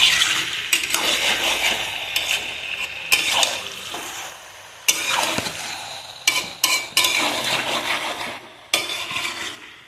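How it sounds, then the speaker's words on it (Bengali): Chicken for kacchi chicken kosha being stirred in a pot with green chillies, spoon scraping and clattering in uneven bursts over a soft sizzle, close and moderately loud with no talking. "ভালো করে নাড়িয়ে নেবেন।"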